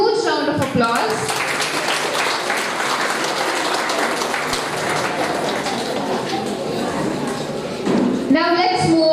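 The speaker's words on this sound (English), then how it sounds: "Give them a huge round of applause." A school audience at a literary festival character parade gives a huge round of applause for student performers, dense clapping rolling on steadily for several seconds, with talk over a microphone at the start and end.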